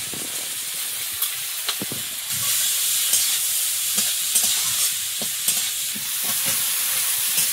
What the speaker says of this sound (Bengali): চিংড়িটা ভেজে নিয়ে এবারে চিংড়িটা দেবো